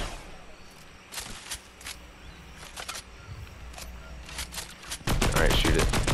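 Gunfire in a 2v2 jet pack video game, scattered sharp shots and short bursts at irregular intervals over a noisy background, ending in a dense, louder stretch of rapid fire.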